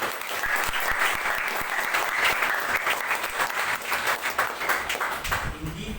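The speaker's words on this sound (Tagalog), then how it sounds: "Yun pong palakpak ng pagpupuri ang ibigay natin sa Panginoon." A congregation at a Sunday worship service claps in sustained, loud applause praising God, dense and continuous with a few voices blended in.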